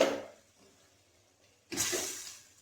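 Leftover stock poured into a pot of mutton malai curry, heard as a short splashing rush of liquid that fades, a brief quiet gap, then a second louder pour lasting about a second.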